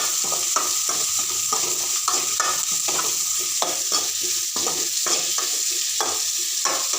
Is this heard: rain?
no